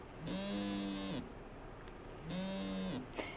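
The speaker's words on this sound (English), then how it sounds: "Here's the vibrate" A dog e-collar on vibrate mode buzzes in two sustained bursts of about a second each, separated by a short pause, with a rough humming drone and a small click at the end.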